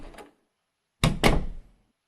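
A door closes with a short soft knock, a pause of silence, then a solid double thunk as it shuts, all close and alone.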